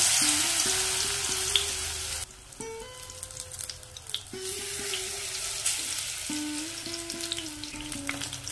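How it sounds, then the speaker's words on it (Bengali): Batter-dipped pumpkin flowers dropped into hot oil for deep-frying, with a loud bubbling sizzle at first that settles into a softer steady fizz beneath background music. "একটি করে ফুল নেব আর এইভাবে ডুবিয়ে নেব ব্যাটারে। এভাবে তেলের মধ্যে ছেড়ে দেব।"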